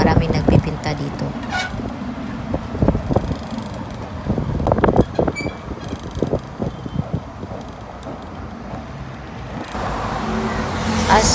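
Steady traffic rumbles past on a busy expressway, with wind buffeting the microphone and engine noise rising and falling as vehicles go by, heard under ongoing talk.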